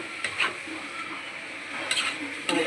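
Bhuna khichuri cooking in ghee with green chilies in a pot, sizzling steadily while a spoon scrapes and stirs in a few distinct strokes, close and fairly clear.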